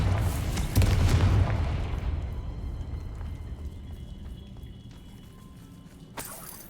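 A Confringo spell explodes in Hogwarts Legacy: one deep, loud boom followed by a long rumbling decay that fades over several seconds, with a brief sharp crackle near the end.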